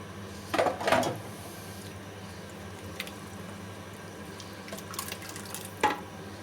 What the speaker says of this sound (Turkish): fasulyemin suyuyla birlikte ilave ediyorum